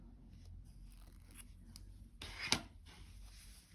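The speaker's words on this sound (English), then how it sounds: "Snip that off." Scissors snip crochet yarn off a snowflake headband with a single crisp cut after some faint handling noise, close and quiet.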